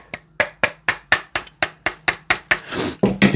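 Repeated sharp hammer blows driving a pin out of an APFG/VFC MPX Copperhead gas blowback airsoft rifle, about a dozen evenly spaced metallic smacks at close range, with a brief scraping rustle near the end.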